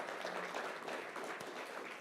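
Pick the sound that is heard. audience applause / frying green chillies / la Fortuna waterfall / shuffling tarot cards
audience applause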